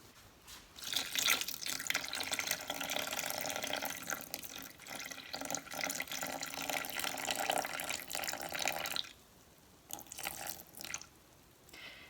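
Water pours steadily into a bowl on a kitchen scale while weighing out bread dough water, with a splashing, trickling sound, then stops and a few drips follow.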